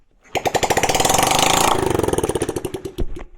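A Honda CRF50 dirt bike, a small single-cylinder machine held open on a bit of throttle, runs close by with a rapid pulsing putter. It rises to a steady rattling rev, then slows into uneven chugs with a final sharp pop.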